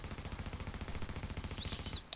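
An LW M4 rifle fitted with two stability mods fires in The Division, a continuous rapid automatic stream of close, loud shots lasting about two seconds, with a short rising whine near the end.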